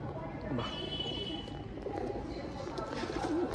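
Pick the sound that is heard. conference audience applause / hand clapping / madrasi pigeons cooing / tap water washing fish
madrasi pigeons cooing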